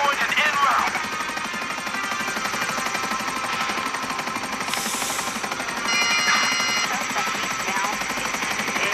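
A fast helicopter flying in the video game GTA 5 gives a continuous rotor drone that stays level throughout, with brief game noises and voices at moments.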